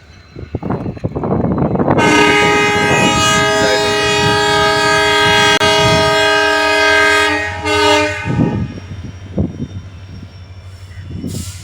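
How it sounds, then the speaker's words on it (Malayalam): A train pulling out of a station as it sets off toward Madurai: a long, loud horn blast sustained for several seconds over a low rumbling of wagons that continues after the horn stops. "അപ്പോൾ ഇതാ ട്രെയിൻ പതിയെ നീങ്ങി തുടങ്ങിയിട്ടുണ്ട്"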